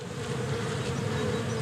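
Honeybees from rooftop hives in London hum in a steady, dense buzz that holds evenly throughout, close and continuous with no voices.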